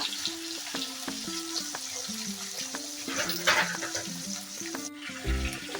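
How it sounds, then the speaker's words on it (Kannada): Chopped ginger, garlic and tomato fry in a pan for palak paneer, giving a steady close sizzle with a few stirring sounds. A melodic background tune plays throughout. "ಶುಂಠಿ ಹಾಕೊಳ್ಳೋಣ, ಟೊಮೊಟೊ ಹಾಕೊತಾ ಇದ್ದೀನಿ. ಇದೆಲ್ಲ ಚೆನ್ನಾಗಿ ಫ್ರೈ ಮಾಡ್ಕೊಳ್ಳೋಣ."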